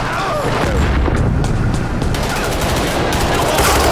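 Dense, loud gunfire in Payday 3 during a heist, rapid overlapping shots and booms forming a continuous barrage that fills the whole stretch without pause.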